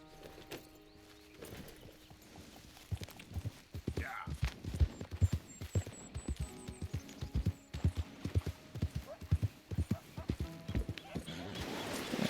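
Rhythmic clip-clop of horse hooves trotting on hard ground in Red Dead Redemption 2, steady and fairly close, with a brief whinny and a voice talking over it.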